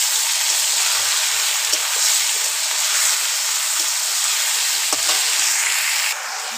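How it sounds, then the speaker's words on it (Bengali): Potatoes and onions frying in oil as garlic, ginger and green chili go in, a loud continuous hissing sizzle close up with occasional stirring clicks and no talk. "তো আমি রসুন আদা আর কাঁচা লঙ্কাটা দিয়ে দেবো, দিয়ে এক দুটা নাড়াচাড়া দিয়েই তারপর মাংসটা দিয়ে দেবো।"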